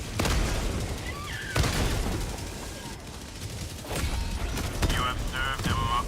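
Autocannon fire in the Helldivers 2 game, heard as several loud, sharp bursts of shots spread across the clip over a dense battle din, with no clear talk.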